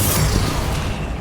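Bombarda exploding spell blast in Hogwarts Legacy, a single loud booming burst that decays over about a second, close and without voices.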